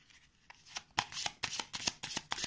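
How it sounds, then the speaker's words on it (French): A deck of game cards being riffled and reshuffled during a cooperative board game session, a run of crisp rapid flutters and snaps growing louder after a soft start, close and clear with no talk. "je vais remélanger le paquet"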